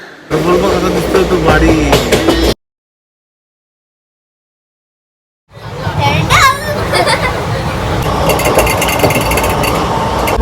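Loud rhythmic rattling of a train on rails near Nala Sopara, cut by a few seconds of silence, then the clatter resumes with people talking over it.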